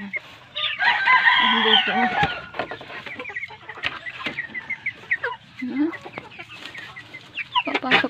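Chickens cluck and a rooster crows nearby, with someone speaking briefly amid the lively poultry noise.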